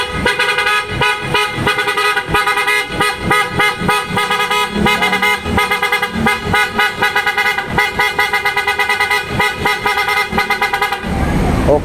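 A PIAA auto-style car horn fitted to a Toyota Vios, sounding loud and close in a continuous rapid series of bright, harmonic honks and toots for about eleven seconds, with no talk over it.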